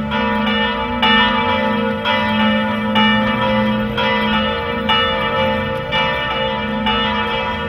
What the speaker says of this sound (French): quand les cloches sonnèrent la libération